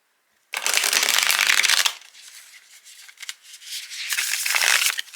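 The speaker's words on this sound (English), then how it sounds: "I can riffle shuffle now" A new, flexible deck of playing cards is riffle shuffled up close, giving a loud sustained ripping flutter, a softer bridging rustle, then a second riffle burst.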